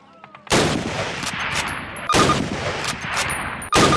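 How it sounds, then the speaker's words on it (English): Springfield rifle firing in the Call of Duty video game: three loud, sharp gunshots spaced about a second and a half apart, each followed by a sustained roaring reverb tail and faint metallic clinks. "Move to the fence and fire 2 rounds at your target."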